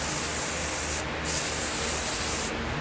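WD-40 lubricant sprays from a big bottle while work goes on on a classic Mini, a loud continuous hissing spray broken by two brief pauses, up close.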